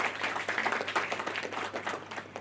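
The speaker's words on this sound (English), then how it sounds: "let us begin today's opening ceremony with a big round of applause" A seminar audience applauds to open a healthcare management ceremony at Hotel Himalaya, with brief, fairly faint clapping over a low steady hum.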